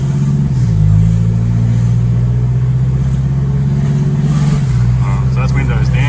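An Isuzu 4JJ3 diesel fitted with a 4-inch DPF-back stainless steel diff dump exhaust drones steadily as it accelerates, with the engine note rising early on and holding a loud, constant hum, while a voice talks over it.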